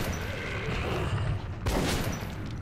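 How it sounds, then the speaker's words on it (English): A shotgun fires in Metro 2033 Redux, with a single sharp blast in the middle of a dense, noisy game soundscape, fairly loud and close. "This shotgun is a lot better."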